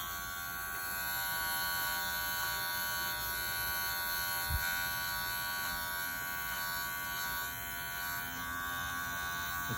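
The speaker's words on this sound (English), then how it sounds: "That is a clipper." Electric hair clipper cutting hair during a feathering haircut lesson, a steady close buzzing drone running unbroken for the whole stretch with one brief low thump midway.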